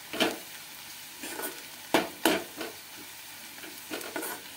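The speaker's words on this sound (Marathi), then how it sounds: "कांद्यासोबत तो मसाला सुद्धा भुनला जातो, तळला जातो।" Masala fried with onion on low heat, a quiet sizzle under a handful of separate spoon stirs and scrapes spaced irregularly, close by, without speech.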